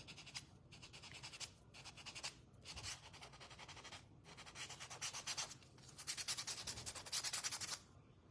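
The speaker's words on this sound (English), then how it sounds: "So see how I'm just kind of sanding it lightly?" Quiet, close hand sanding of a handmade lantern: rhythmic back-and-forth rubbing strokes with brief pauses between passes, growing slightly louder near the end.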